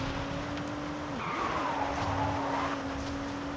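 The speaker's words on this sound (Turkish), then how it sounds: "Şöyle bir drift yapabilir miyiz lan?" A car drifting across a field in Forza Horizon 5, a long wavering tire skid over a steady engine drone, moderately loud and continuous.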